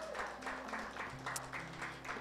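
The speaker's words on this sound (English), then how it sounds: "Would you give Pam just a round of applause?" Brief, fairly faint clapping from a small audience honoring a leader, with a sustained tone and low hum underneath.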